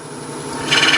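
A bowl spins on a wood lathe at 500 RPM while a gouge cuts into the wood, a steady rubbing hiss that grows louder and harsher as the cut deepens.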